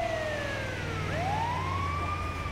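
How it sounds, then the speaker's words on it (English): An ambulance siren in GTA 5 wails with a falling then rising sweep, loud and close over a low vehicle engine rumble. "that was a good call on the ambulance, Eddie."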